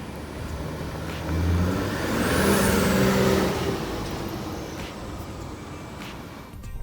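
A 2019 Ford F-150 Limited pickup truck engine rumbles nearby, heard from outside, swelling louder as it passes with a brief whine, then settling back to a steady drone.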